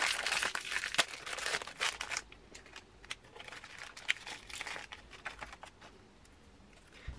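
A fortune cookie's plastic wrapper is crinkled and torn open close by, with dense crackling in bursts that thins to softer scattered crinkles, quiet and alone.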